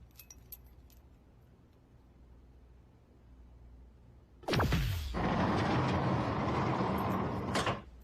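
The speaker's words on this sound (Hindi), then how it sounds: "दरवाजा खुल गया" Keys jangle and a door lock clunks open, followed by a loud sustained mechanical rush and rattle as the door swings open, close and fairly loud, with no talk.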